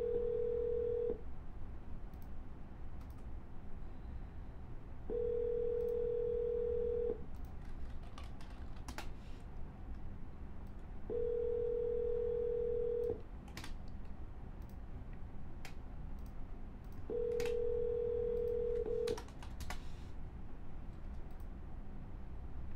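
Phone dialing during real estate cold calls: bursts of dial tone roughly every six seconds, each lasting about two seconds, with faint key clicks and ticks between them and no talking.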